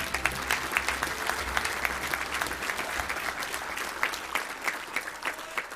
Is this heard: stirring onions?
no